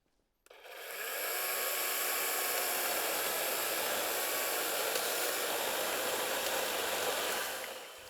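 A DeWALT DCCS621 20V cordless chainsaw starts abruptly and cuts through pressure-treated 4x4 lumber, a steady high whining buzz held for about seven seconds before winding down.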